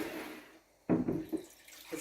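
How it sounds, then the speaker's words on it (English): Tap water gushes briefly into a kitchen container, a short splashing burst that starts abruptly after a quiet moment and fades within about a second. "I'm gonna catch some water in this"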